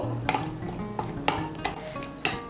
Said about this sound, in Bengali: সমস্ত উপকরণ ভালো করে মিশিয়ে নেব